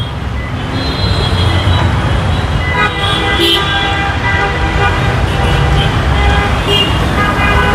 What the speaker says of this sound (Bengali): বাবা ইঞ্জিন কিন্তু স্টার্ট আছে, বোঝা যায় একদম স্মুথ সাউন্ড।